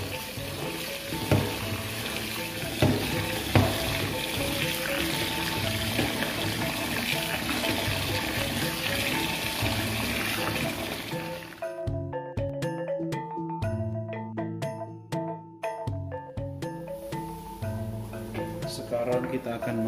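Glutinous rice being washed for Dayak tuak, water sloshing and swirling steadily through the grains, then breaking into irregular splashes and pours with short gaps of near quiet.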